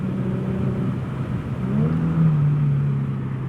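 Infiniti G37 with a six-speed manual and Motordyne exhaust downshifting on a country road, a steady mid-pitched engine drone that rises into a louder rev partway through, heard from inside the car.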